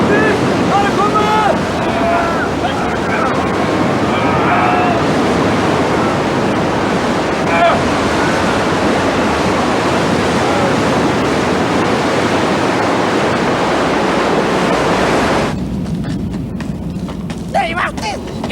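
A glacial outburst flood surges past as a loud, continuous roar of rushing water, with shouting voices over it. The roar drops off abruptly near the end.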